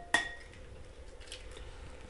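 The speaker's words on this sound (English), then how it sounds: "We got 2 eggs that we're going to put in another bowl because we're going to whisk those up." An egg is cracked against the rim of a bowl for gluten-free cornbread batter: one sharp, close crack, then a faint quiet room with no talk.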